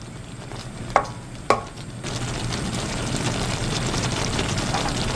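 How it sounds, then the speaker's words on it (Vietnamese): Two sharp utensil knocks against a pan, then a steady sizzle of fish frying as it is gently stirred, continuing evenly with no talk. "Đảo đều nhẹ nhàng, tránh cá bị nát nha các bạn."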